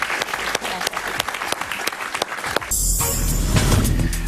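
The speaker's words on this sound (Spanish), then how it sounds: "Un aplauso para Marién, por favor." A television studio audience applauds a guest, close crisp clapping for under three seconds before the applause gives way to a steady, louder wash of other sound.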